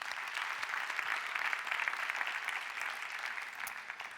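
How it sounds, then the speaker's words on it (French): Steady applause from an audience at an evening awards ceremony, dense clapping sustained throughout without a break. "On peut les applaudir très très fort."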